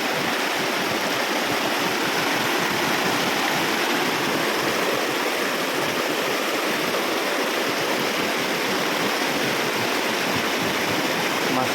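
River water pours steadily through a dam built across the river for fishing, a loud, unbroken rushing wash that fills the whole stretch with no voices.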